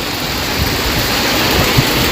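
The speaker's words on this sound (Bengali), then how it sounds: "ঝমঝম করে বৃষ্টি হচ্ছে" Heavy monsoon downpour in Arambagh under dark clouds, a steady dense hiss of rain close by with no pauses and no voices.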